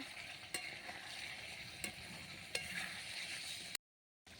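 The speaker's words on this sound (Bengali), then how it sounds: "ঢাকাটা খুলে একটু নেড়ে চেড়ে নেব" Pointed gourd and prawn curry is stirred in a pan, a soft simmering sizzle with a few sharp scrapes of the spoon, then a sudden cut to silence near the end.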